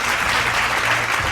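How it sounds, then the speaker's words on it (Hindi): Applause fills a Hindi award ceremony on a stage, honoring a guest: dense, steady clapping from an audience, loud and continuous with no talk over it. "एक बार जोरदार तालियों से उनका स्वागत कीजिए"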